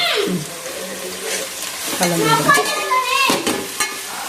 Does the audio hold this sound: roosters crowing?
no